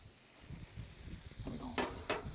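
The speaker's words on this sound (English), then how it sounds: "Burgers cooking down in that butter." Bacon and burgers fry in butter on a Blackstone griddle, a soft continuous sizzle with low rumbling underneath and a couple of brief brighter spatters near the end.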